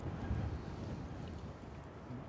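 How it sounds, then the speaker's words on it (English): Wind picks up outdoors at Manchester Airport and buffets the microphone with a faint, steady low rush and rumble. No distinct events stand out. "Wind's picking up."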